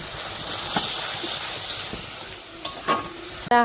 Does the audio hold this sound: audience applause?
no